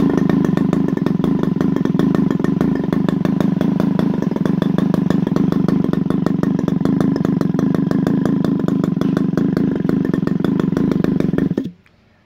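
A Moki 180 radial model aircraft engine, converted to run on gasoline, roars steadily at high revs on a test stand, loud and close, with an even rapid firing pulse throughout before cutting off abruptly at the very end.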